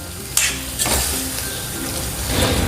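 Eggplant mash, vangyache bharit, with finely chopped onion and greens, stirred in a pan with the gas off, giving close scraping and stirring sounds with a couple of sharper knocks against the pan over a steady soft hiss.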